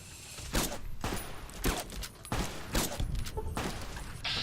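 Gunfire aimed at Deathclaws in the video game Fallout: New Vegas, a string of loud, sharp shots at uneven intervals, close and unaccompanied by talk.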